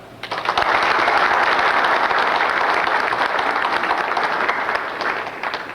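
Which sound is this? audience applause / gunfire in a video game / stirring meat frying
audience applause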